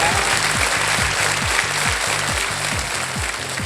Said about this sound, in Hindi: यह सही उत्तर हुआ, ताली बज गई आपके लिए।